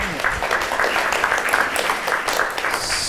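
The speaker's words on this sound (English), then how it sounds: "And a round of applause." Education workshop audience gives a round of applause, a steady mass of clapping with a voice just at the start, moderately loud and sustained.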